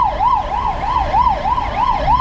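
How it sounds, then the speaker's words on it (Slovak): An ambulance siren wails loud and close on a street in Seoul, South Korea, its rising and falling tone repeating at a quick, even rhythm over traffic rumble. "Aha, aká sanitka. Takúto som snáď ešte nevidel."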